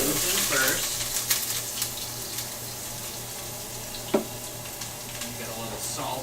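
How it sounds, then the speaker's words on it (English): Onions sizzle steadily in hot oil on a stovetop, prepared for chicken parmesan, with a continuous close frying hiss, scattered pops and clinks, and a few soft voices in the background. "So oil, we're putting onions in first."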